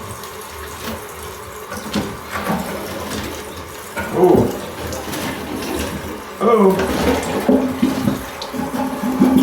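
Dirty water sloshes and gurgles down a drain being snaked, with splashing bursts, close by, while a man lets out a couple of short exclamations.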